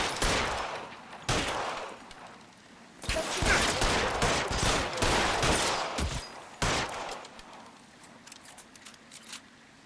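Bursts of gunfire in the 1940s crime game LA Noire, loud rapid volleys and single shots arriving in irregular clusters with short pauses between exchanges.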